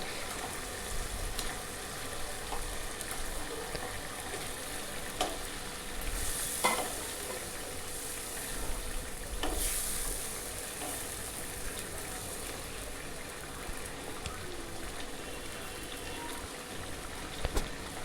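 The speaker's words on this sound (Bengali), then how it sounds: "ভেজে রাখা ডিমগুলোকে যে আমি মিশ্রণটা তৈরি করেছিলাম তার মধ্যে এবার একটা একটা করে আমরা ঢেলে দিচ্ছি" Fried eggs stirred into a sizzling egg-masala mixture in a pan, a steady soft crackle and hiss with occasional spoon scrapes and clinks, fairly quiet and close, no talk.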